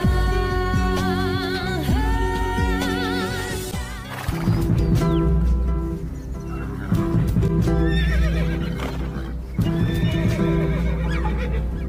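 Horses whinny repeatedly, loud and close, while hooves thud in a steady galloping rhythm underneath a dense, busy backdrop.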